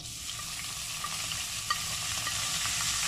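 Grated onion frying with curry leaves in a pan for spicy quail egg masala, an even close sizzle and crackle running throughout with a couple of faint clicks and no voices.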